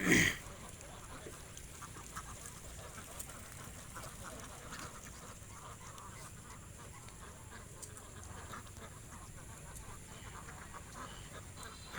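A flock of egg-laying ducks on a farm quacks in a steady, dense chorus at moderate distance, with a brief louder burst right at the start.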